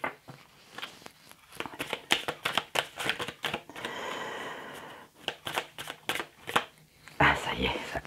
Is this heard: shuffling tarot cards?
yes